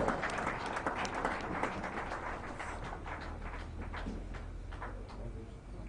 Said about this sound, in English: Please give him a round of applause as he comes up.